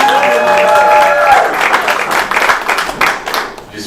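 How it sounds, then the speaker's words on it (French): Church congregation at a consecration service applauding and cheering loudly, dense clapping that holds steady and then thins out, with shouts and voices mixed in. "Est-ce qu'on peut acclamer?"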